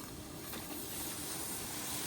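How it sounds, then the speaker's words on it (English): Fresh water steaming and hissing on a hot flat-top griddle during steam cleaning, a steady close broadband hiss that holds evenly for about two seconds with no talking. "Just get a good fresh water steam clean on your griddle."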